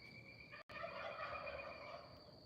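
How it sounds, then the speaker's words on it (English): A hawk calls outdoors in the Texas countryside, a single drawn-out, harsh, ringing cry carrying over a quiet background. "Oh, I can hear a hawk."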